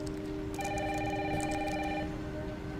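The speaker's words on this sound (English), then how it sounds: "Mom, phone." A telephone rings in a home, steady electronic ringing tones repeating for about a second and a half over a constant low hum of background noise.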